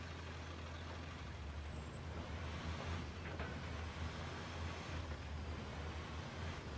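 A Toyota Land Cruiser 80 VX engine idles and runs in the off-road game Spin Tires, a steady low rumble with a constant drone and faint high whine, no talking over it.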